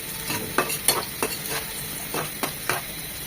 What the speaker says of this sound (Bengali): পেঁয়াজের সাথে একটু ভেজে নেবে